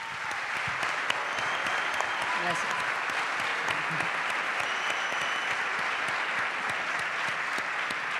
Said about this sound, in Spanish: les pido un aplauso más para Flor